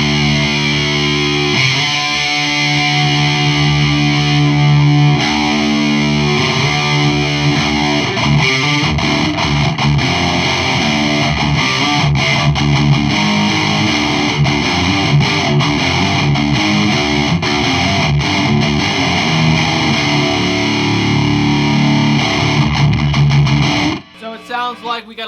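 High-gain distorted electric guitar through a Randall Diavlo RD1H 1-watt amp, dense chugging riffs and sustained saturated chords played continuously, loud and close, ending in a few short stabs.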